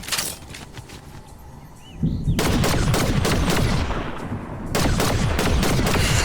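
Rapid bursts of Fortnite gunfire, loud and close, with a brief lull before sustained automatic fire and a second heavy volley near the end.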